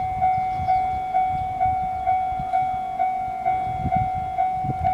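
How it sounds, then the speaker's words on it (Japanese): A Joshin Electric Railway commuter train rolls past near Takasaki with a rhythmic clatter of wheels over rail joints and a steady high electric whine, fairly close. "下仁田方面から高崎方面に来る電車ですね。"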